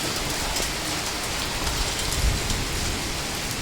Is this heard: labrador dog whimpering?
no